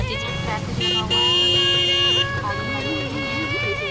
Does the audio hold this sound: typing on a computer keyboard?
no